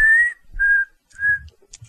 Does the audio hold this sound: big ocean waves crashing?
no